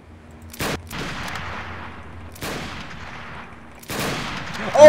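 Three loud, separate gunshots in Garry's Mod, each a sharp crack followed by a long echoing decay, spaced roughly two seconds apart.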